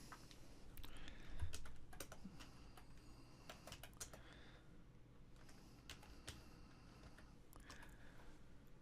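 Steady, quiet clatter of fingers on a computer keyboard entering text, irregular taps spread across several seconds against a faint room hiss, no one speaking.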